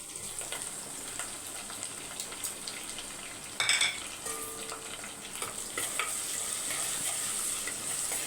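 Vadagam frying in oil with curry leaves gives a faint, steady crackling sizzle, with a brief clink of utensils near the middle. No voices.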